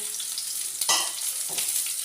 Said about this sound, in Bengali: রসুনটাকে আমি সুন্দরভাবে তেলের মধ্যে একটু ফ্রাই করে নেব